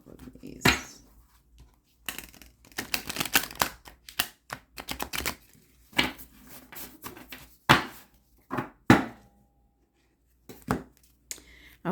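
Tarot cards shuffled in a series of crisp, riffling bursts, with short pauses between, close to the listener and without any talking.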